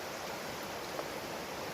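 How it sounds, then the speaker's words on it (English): Mountain stream on a canyon hiking trail, crossed on foot as the water rushes steadily in a broad, even wash that fills the whole moment without speech. "Crossing the streams."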